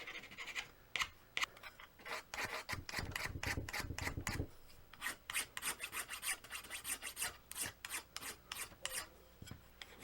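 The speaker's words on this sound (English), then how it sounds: "when you're done filing on the bridge" A rasp filing a guitar bridge, producing a close, steady series of gritty scraping strokes in quick rhythmic bursts, sometimes faster and sometimes paused, with no voice over it.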